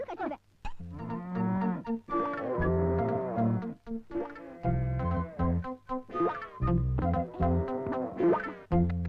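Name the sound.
cow mooing in a film scene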